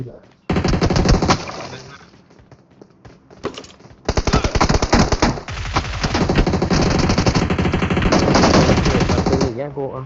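Rapid automatic gunfire in the mobile battle royale game PUBG Mobile, long dense bursts with a short gap, loud and close, while a player talks over it.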